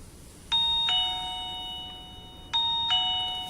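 Mountdog M6 doorbell chime rings as its ring button is pressed: two clear two-tone ding-dong chimes about two seconds apart, each with lingering ringing tones, close and alone over faint room hiss.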